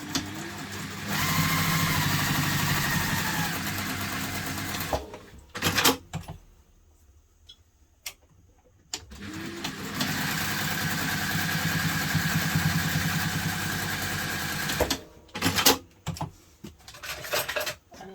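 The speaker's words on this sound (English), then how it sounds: "we are just going to top stitch down the sides just to make it look nice" Sewing machine top stitching down the sides of a fabric hipster bag, a steady close whirring run, a quiet pause with small clicks, then a second long run followed by handling clatter.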